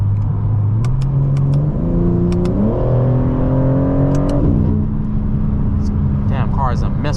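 A BMW M3/M4 Competition engine pulls hard through the gears, its rising tone dipping at each upshift, loud and close from inside the car, with a voice talking over it.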